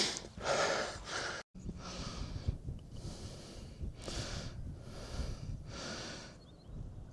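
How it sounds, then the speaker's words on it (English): Heavy out-of-breath panting from a hiker climbing uphill with a full pack on Rannerdale Knotts, close and loud, in a steady rhythm of rasping breaths with one brief dropout. "you'll be able to hear my out of breath panting all the better"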